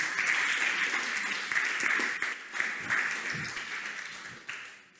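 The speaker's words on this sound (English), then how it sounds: "For being part of this competition, a big applause." Audience at a startup pitching competition clapping in a sustained wave of applause that swells, holds, and fades away over several seconds.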